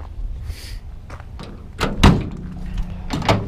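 Rear barn doors on a 1959 Chevrolet Model 1305 being opened: a few separate clunks and latch thuds, the loudest near the middle, then another knock at the end, close and alone.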